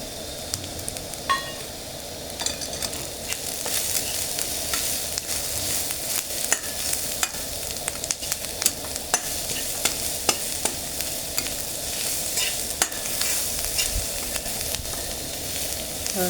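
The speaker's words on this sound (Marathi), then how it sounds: "हळद आणि मीठ छान परतून झालेली आहे." Turmeric and salt sauté with fried onion in a pan, a continuous close sizzle with frequent sharp scraping clicks of a spoon stirring throughout, no voices.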